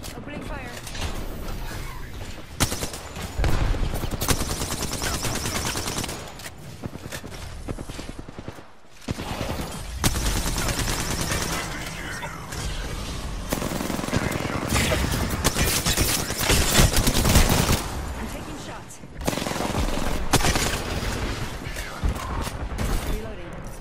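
Sustained gunfire fills an Apex Legends match, with dense rapid shots and bursts running nearly throughout, mixed with game sounds and character voice lines.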